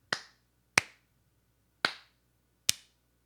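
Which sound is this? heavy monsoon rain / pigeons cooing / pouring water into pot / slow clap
slow clap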